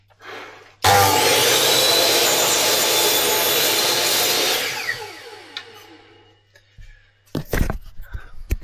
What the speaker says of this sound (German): jetzt gehen wir an die Säge. Sägen das mal ab.